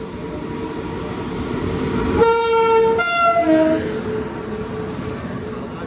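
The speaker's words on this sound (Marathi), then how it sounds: "आणि बघा राईटने बघा अजूनही ट्रेन पास होते." A train horn sounds loudly twice in close succession, first a sustained blast then a shorter one, over the steady rumble of a passing train on an Indian railway line. No one speaks.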